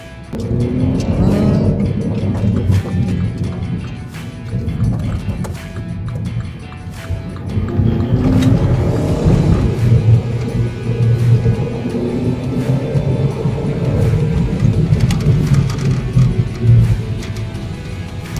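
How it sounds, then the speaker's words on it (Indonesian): A Mini Cooper S three-door with an aftermarket exhaust in sport mode, engine note rising and falling through loud revs under acceleration, heard up close from inside the car. "Kita dengerin dulu suara knalpotnya guys."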